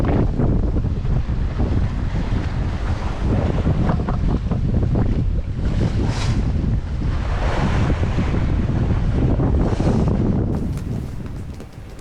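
Strong wind buffets the microphone while ocean waves of about two metres rush and crash around a sailboat at sea, a loud, constant roar that continues throughout.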